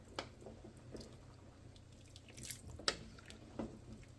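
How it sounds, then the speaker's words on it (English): A spoon stirs a big pot of thick homemade vegetable beef soup, giving a few soft, wet squelching and clinking knocks close by against a quiet background. "And we'll give it a stir"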